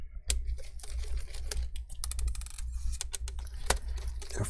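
Small screws are being taken out of an HP 15 AF AMD Ryzen laptop motherboard, a close run of light irregular clicks and tiny metallic taps with quiet handling noise, no talk.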